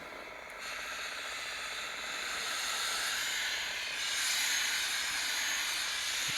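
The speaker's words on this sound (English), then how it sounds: "start it low and then put the steam on, let it come out a little bit" A garment steamer works over a sports jersey, starting on a low setting and moving up. It gives a steady, loud, airy hiss that swells slightly and holds without pause.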